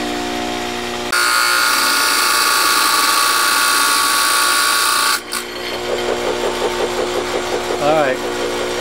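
An angle grinder's abrasive wheel cuts chunks off material for a Marvin window build, a loud, sustained high-pitched whine that cuts out abruptly, leaving a quieter hum and faint handling noises.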